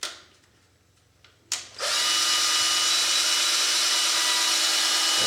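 A power drill twists wire clamped in a vise, with a few faint knocks before the motor spins up into a loud steady whine that holds to the end.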